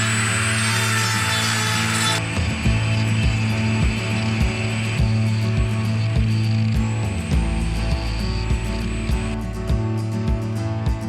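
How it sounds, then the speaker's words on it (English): Small Dremel rotary tool grinding rust holes and V-ing out a crack in the steel body tub of a Toyota FJ40 Land Cruiser, a high whining buzz with repeated short rasping bursts of contact against the metal, up close. "I'm just using a little Dremel just to clean out some of these little tiny little rust holes"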